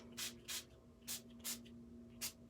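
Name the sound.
spraying distress spray stain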